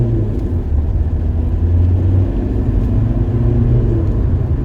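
A Rover 25 accelerates, its engine a loud, close low rumble with a steady droning whir that builds slightly and holds, heard from inside the car with no voices.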